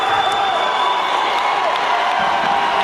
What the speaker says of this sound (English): Pandemonium in the gym.